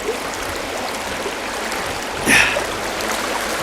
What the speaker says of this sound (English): just listening to the noise of the water flowing down